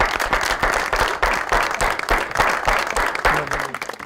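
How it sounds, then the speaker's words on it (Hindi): Studio audience applause on a talk show welcoming guest Mohammad Irfan; loud, close clapping pulses in rhythmic waves throughout, with no speech. "बहुत सारी तालियां मेरे भाई के लिए"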